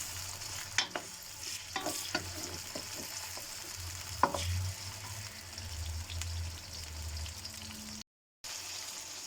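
Ginger-garlic paste masala frying for cabbage sabzi and stirred in the pan: a continuous sizzle with repeated spoon knocks and scrapes, a low background hum, and a short dropout near the end.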